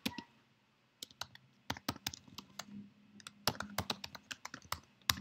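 Someone types an admin username and password on a Mac keyboard, with crisp, close key clicks in irregular bursts and short pauses between them.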